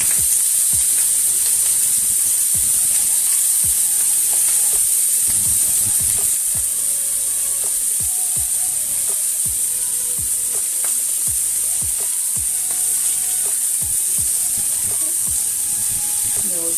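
Pumpkin buns searing in a pan over high heat, giving a steady loud sizzle with scattered pops and knocks of handling throughout.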